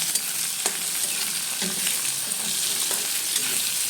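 Onions frying in oil in a pan, cooked to brown, with a steady broadband sizzle throughout and a few soft scraping stirs, close and fairly loud with no talking.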